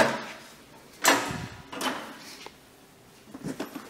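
The entry door of a 2022 Zinger 328SB travel trailer is shut onto its step bracket latch, giving a sharp clack followed by a few lighter rattling knocks at close range.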